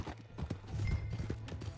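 A horse galloping in the video game Red Dead Redemption 2: rapid, steady clip-clop hoofbeats, fairly close, with a faint whinny and game ambience underneath.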